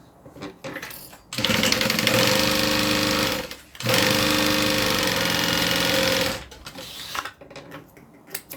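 A sewing machine stitches the bottom seam of a handmade bag, running in two loud, steady bursts of several seconds each with a brief pause between, then stopping and leaving quiet handling noise.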